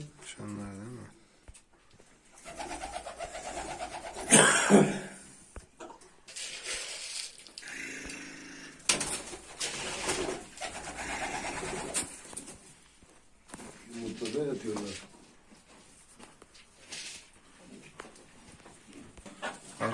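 Game pigeons in a coop in Mardin coo and rustle nearby, soft repeated cooing calls with wing flutters and shuffling, while someone talks over them throughout.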